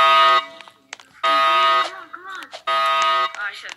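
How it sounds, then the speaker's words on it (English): Inside the Roblox game Brookhaven, a loud buzzing alarm blares in three long repeated pulses with short gaps, while a voice talks quietly in the pauses. "Oh, the alarm is set off."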